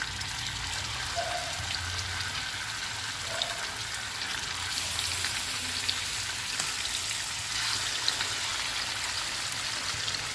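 Five pieces of fish fry in hot oil with curry leaves, giving a steady, close crackling sizzle that runs unbroken from start to finish.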